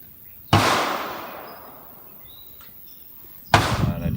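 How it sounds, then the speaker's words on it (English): Two sharp, loud rifle shots from a .243 Winchester Ruger American firing 80 grain ballistic tip handloads over H414 powder, spaced about three seconds apart, each with a long ringing outdoor decay and no talk. "I just shot the 80 grain ballistic tip, 43 grains of H414"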